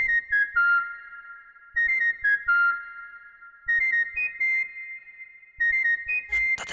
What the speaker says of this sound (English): This sound itself is just a whistle.